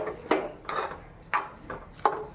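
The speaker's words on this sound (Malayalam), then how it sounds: "ഇപ്പൊ നമ്മളിത് ഇളക്കി നന്നായിട്ട് യോജിപ്പിച്ചെടുത്തിട്ടുണ്ട്." Potato curry is stirred and mixed in a pan, with about five separate scraping strokes of a spoon against metal at an uneven, unhurried pace.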